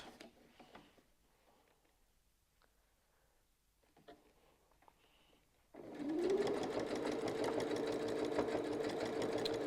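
A sewing machine quilting a rotating mandala pattern, its needle starting up after quiet handling noises and then running in a steady, fast, close mechanical whir with a rising motor hum.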